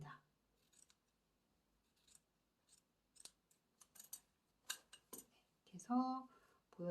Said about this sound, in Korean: 좀 한 1cm 정도 여유를 두고 이렇게 잘라줍니다